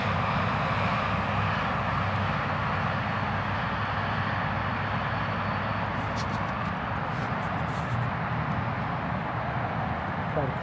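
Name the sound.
EPP Eagle RC airplane low flyby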